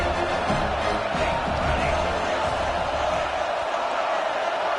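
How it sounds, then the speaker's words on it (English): A football stadium crowd roars at a USC game, tied in the final minute of the fourth quarter. The broad, steady wall of noise keeps up throughout, with scattered shouts rising out of it. "Tremendous crowd atmosphere now in the final minute of play."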